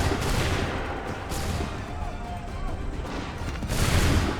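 Volleys of musket fire from Assassin's Creed 3 crackle and boom in a dense burst, fade, then swell again near the end, a rolling fusillade of many guns with distant shouting under it.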